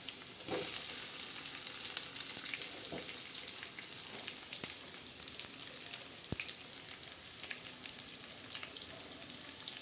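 Onion frying in oil over a garlic and curry leaf tempering gives a steady, close crackling sizzle that swells briefly as the onion goes in, with occasional stirring clicks and no one talking.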